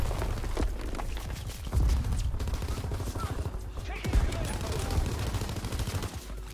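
Gunfire in a Call of Duty: WWII sniping match: repeated sharp shots and bursts crack over a dense, rumbling battlefield din, with heavier booms at intervals and a voice talking underneath.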